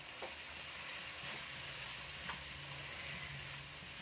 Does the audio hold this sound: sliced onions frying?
yes